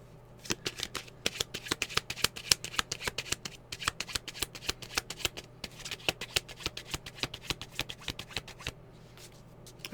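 A tarot card deck being shuffled by hand, a long run of quick, crisp riffling flicks and taps close up, continuous and fairly even, with no speech.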